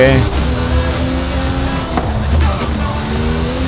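A Mercedes-AMG ONE with its 1.6-litre F1-derived hybrid V6 and four electric motors roars in Forza Horizon 5, a loud sustained engine note rising and falling with throttle while someone talks over it.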